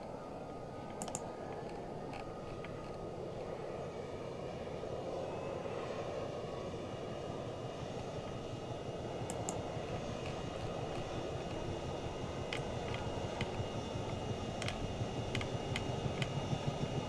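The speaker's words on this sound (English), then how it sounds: "4611 spooling out." Engine of a Chinook helicopter in the ArmA video game spooling up, a steady broadband turbine roar that builds slightly over time, with faint clicks and keyboard taps over it.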